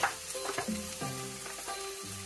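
Onion and peppers sizzle steadily in a hot pan while being stir-fried for pad Thai, a close, continuous frying hiss with occasional stirring and tossing, and no voices.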